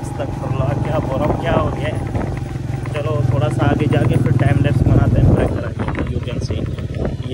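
Motorbike riding a rough rural road through strong wind, with a steady low engine drone and wind buffeting throughout while someone talks over it.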